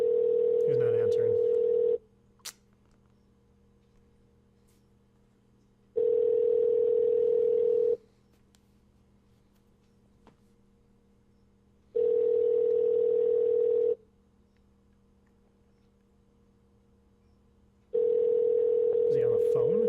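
A telephone call rings unanswered, long steady ring tones in a regular pattern of about two seconds on and four seconds off, loud and close, with brief faint voice bits between rings.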